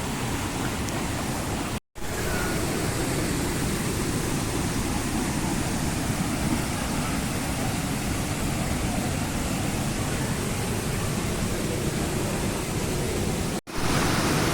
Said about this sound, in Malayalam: ആ വെള്ളച്ചാട്ടം വന്നിട്ട് ഇവിടേക്ക് ഇതേപോലെ ഒരു ചെറിയൊരു വെള്ളച്ചാട്ടമായി മാറും